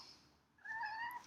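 A house cat gives one faint, short meow that rises and falls, preceded by a brief quiet hiss of room noise.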